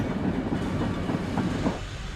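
A train rolls on rails during a crash test, producing a steady, loud rumble with rattling wheel and carriage noise throughout.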